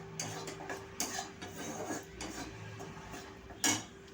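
Gram flour (besan) dry-roasting in a pan on a gas stove, with a spoon or spatula scraping and clinking against the metal in irregular strokes, close and fairly quiet, one sharper clink near the end.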